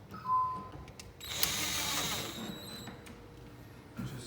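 Power driver sinking bronze trim head screws into wooden lock blocks, a steady mechanical whirring burst lasting a couple of seconds after a short brief click, close and moderately quiet.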